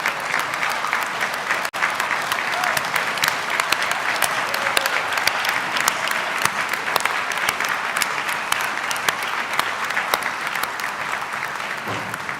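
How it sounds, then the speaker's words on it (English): Sustained applause from a large commencement crowd at a Dakota State University ceremony, dense continuous clapping filling the hall for the whole stretch with a brief dip near the start. "would all the DSU alumni please stand and be recognized and give yourselves a round of applause"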